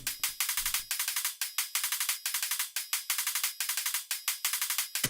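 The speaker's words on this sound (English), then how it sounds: "We have 2 hi-hats, one on either side." Two electronic hi-hats panned hard left and right for a Friday Night Funkin' track, ticking in fast, bright interlocking patterns, with a brief low drum thump at the start, playing alone.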